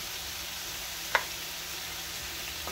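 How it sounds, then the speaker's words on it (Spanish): Chopped onion sizzling in hot olive oil in a pan for chicken tinga, a steady close fry hiss with one sharp clink of a utensil partway through. "Ya que se nos calentó un poquito el aceite de oliva, vamos a incorporar nuestra cebolla"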